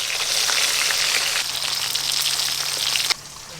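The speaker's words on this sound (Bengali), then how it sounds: "মোচা সিদ্ধ হয়ে গেছে, এবার ঢেলে নেব।" Boiled banana flower (mocha) being poured off into a strainer, a steady broadband rush of draining water that stops abruptly near the end, close and loud with no talk.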